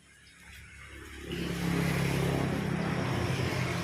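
A motorcycle engine is started after an intake valve clearance adjustment, quiet at first and then catching at about one and a half seconds into a loud, steady idle that holds close by to the end.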